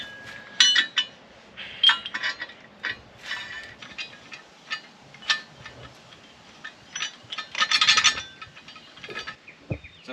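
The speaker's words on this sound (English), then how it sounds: "so we're now pulling the big gear off." Big gear being pulled off a Unimog portal hub with a homemade puller, producing irregular metallic clinks, ratcheting clicks and scraping taps at close range.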